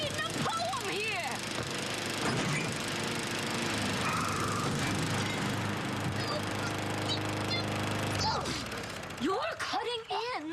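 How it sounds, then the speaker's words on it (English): A lawnmower drones steadily with a mechanical rattle and churn for several seconds while voices talk over it, then the noise drops away near the end. "A lawnmower. Not a lawnmower, the lawnmower."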